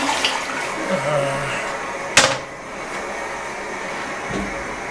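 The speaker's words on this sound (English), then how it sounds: "It's one of the low volume toilets and it works pretty good." A low-volume toilet flushes with a sudden loud rush of water, preceded by running water and faint background sounds, then fading to a quieter trickle.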